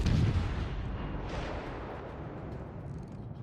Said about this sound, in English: We're going to start putting shells down on him.